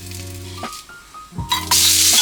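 Food sears and sizzles in a hot pan while consommé ingredients brown, a steady broadband hiss that drops away briefly, then returns loud and dense with a few metallic clinks near the end.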